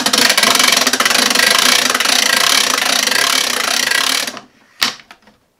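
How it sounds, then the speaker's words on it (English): A hand crank winds the generator inside a transparent batteryless radio, giving a loud, steady whirring and ratcheting for about four seconds that stops abruptly, followed by a couple of brief clicks. "to wind the generator that is inside the radio"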